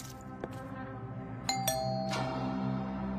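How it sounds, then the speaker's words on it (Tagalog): A house doorbell rings with a clear two-tone ding-dong chime that lingers and rings out against a low background hum. "Pinagbuksan ng katulong sina Beauty at Val matapos silang mag-doorbell."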